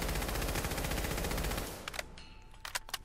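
A service rifle from a New Vegas mod for the video game Fallout 4 firing in a fast continuous automatic stream for about a second and a half, then a few scattered single shots and clicks.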